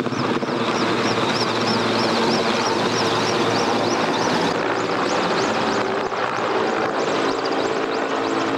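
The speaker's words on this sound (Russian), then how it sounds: "И в этот момент появляются первые вертолеты." Helicopters fly over a burning building during a firefighting effort, their rotors making a loud, continuous droning whir with a rhythmic pulsing chop that stays close and steady throughout.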